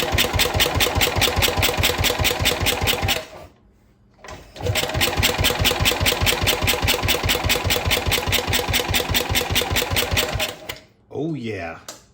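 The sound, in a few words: Wheel Horse 702 lawn tractor engine cranking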